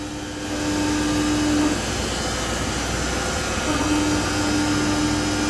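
A 4-axis CNC machine cuts a kickdown bracket held on a jig, giving a steady, loud broadband whir with a sustained tonal whine that drops out midway and returns, with no talking over it.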